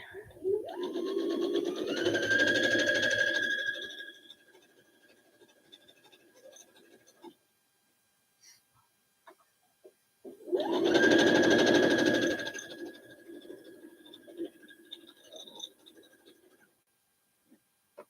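A sewing machine stitches a pillowcase made from a placemat in two whirring runs of a few seconds each, separated by a quiet pause with small handling noises, close and clear.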